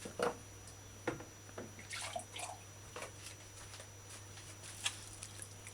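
Water pours onto raw chicken, splashing and trickling in uneven bursts, close by, with soft patters and drips between pours against a low steady hum.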